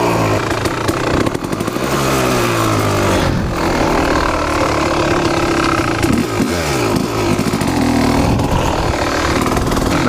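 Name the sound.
Kawasaki KX motorcycle engine starting and revving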